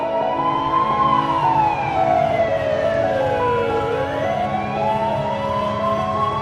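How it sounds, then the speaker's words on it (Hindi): Ambulance siren stuck in cartoon street traffic, loud and close, sweeping up and down in slow wailing cycles that continue throughout over a low rumble of engines. "अब तो एम्बुलेंस भी रुकी हुई है।"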